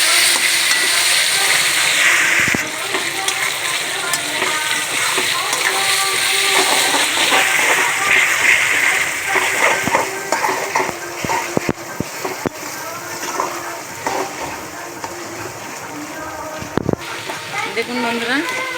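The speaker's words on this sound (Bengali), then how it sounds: "যতক্ষণ না লাল করে ভাজা হচ্ছে ততক্ষণ আমি এভাবে নাড়িয়ে নাড়িয়ে ভাজবো।" Onions frying in hot oil in a pan while being stirred for chicken biryani, a loud steady sizzling hiss with scraping and clatter of the spatula, a voice talking over it at times.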